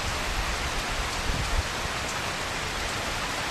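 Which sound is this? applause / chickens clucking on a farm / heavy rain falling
heavy rain falling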